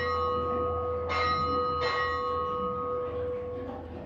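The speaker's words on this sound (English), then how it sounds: "There's 4 bells, it's 2 o'clock." A ship's bell rings four bells in two quick pairs of strikes, clear metallic tones lingering over a steady low hum.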